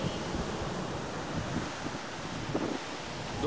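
Sea waves wash onto a beach while wind buffets the microphone, a steady broadband roar of surf and gusts with no voices, filling the whole stretch evenly.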